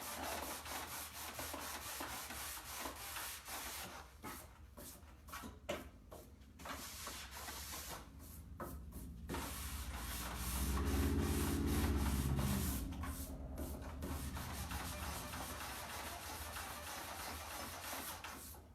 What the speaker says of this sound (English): I wish that orbital sander wasn't so loud so I could really show y'all.